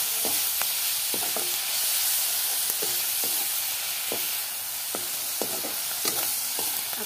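Chopped onions sizzle and crackle steadily in a hot pan, with occasional stirring clicks and scrapes at an even rhythm, close and fairly loud, no voices.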